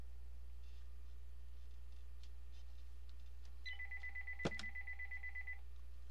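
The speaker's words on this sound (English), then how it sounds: "stinking phone rings" A telephone gives one steady electronic ring tone, with a sharp click, during roofing work nailing three-tab shingles. A constant low hum runs underneath and nobody speaks.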